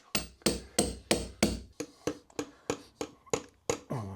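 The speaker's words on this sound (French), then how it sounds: "Marteau." Hammer blows during construction of a home gym, about a dozen sharp, evenly spaced strikes ringing out close and loud, with no talk over them.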